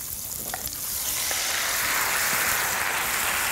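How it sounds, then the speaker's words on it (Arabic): Chard and garlic sauté in butter in a frying pan, the close sizzle swelling from a moderate hiss to a loud, dense, continuous crackle. "هنفضل نشوح السلق لحد ما يبقى لونه غامق جدا مائل إلى السواد"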